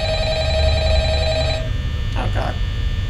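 A telephone rings in the Five Nights at Freddy's video game, a steady repeating ring over low hum for about a second and a half, followed by a brief electronic blip.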